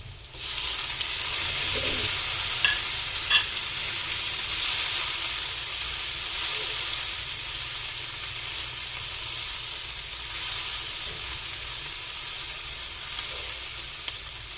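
Tomatoes hissing and crackling as they are stir-fried in a pan, a loud steady sizzle through the whole stretch with a few clinks of stirring near the start and no talk.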